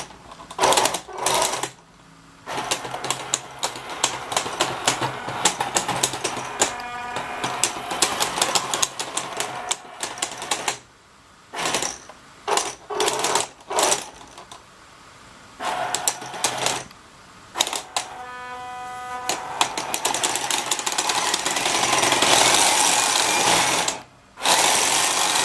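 An RC Ripsaw EV2 tracked machine fitted with metal tracks runs in fast, rattling mechanical bursts, stopping and starting repeatedly with short pauses, close and fairly loud throughout.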